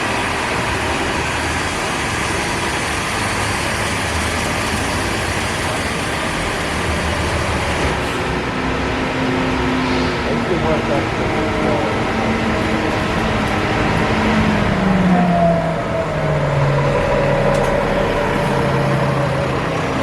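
An AC Transit Alexander Dennis double-decker bus engine drones loudly and continuously close by, with a low rumble and a gear or pitch shift rising and falling near the end.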